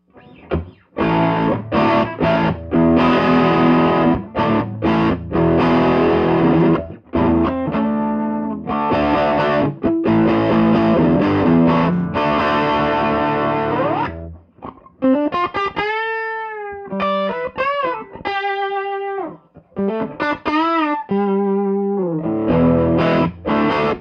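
Overdriven electric guitar through a Dumble-modded Fender Bassman amp with drive set about halfway, playing chords and riffs, loud and gritty, with a sustained passage of bending lead notes toward the end.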